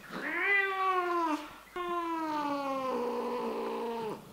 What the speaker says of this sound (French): Tu le portes, il grogne.